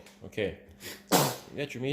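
A single sharp sneeze bursts out midway, set between bits of nearby talk from a person preparing beef jerky.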